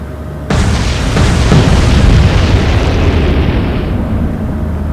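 Heavy explosions from shells striking ships in the naval combat game Atlantic Fleet: a deep, loud boom erupts after a brief quiet start and rumbles on as a sustained roar that slowly fades.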